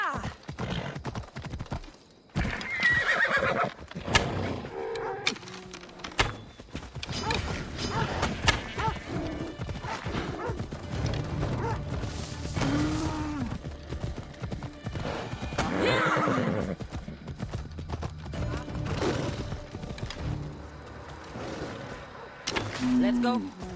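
Horse hooves clip-clopping steadily in the video game Assassin's Creed Odyssey, with occasional neighs and whinnies over continuous game sound while someone talks throughout.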